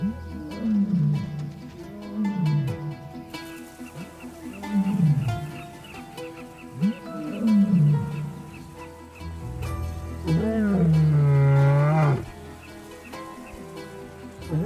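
Several nomad male lions roar from a distance, echoing down a valley in a rhythmic series of deep, drawn-out grunting calls; a longer, steadier call swells near the end.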